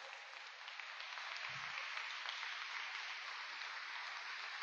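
A church congregation gives a strong round of applause during a Portuguese-language service, a steady, fairly distant wash of clapping that holds evenly throughout without any talking.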